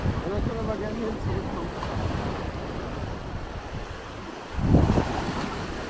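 Sea waves wash onto the beach at Hua Hin under steady wind buffeting the microphone, with one louder surge of surf near the end and faint voices in the background.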